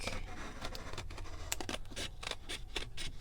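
Scissors snipping through paper in a quiet craft setting, a run of crisp, evenly spaced cuts close to the microphone with no talking.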